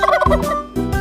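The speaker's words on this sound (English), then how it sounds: "Turkey" A turkey gobbles loudly and close by, a rapid warbling call heard twice in quick succession with no other sound around it.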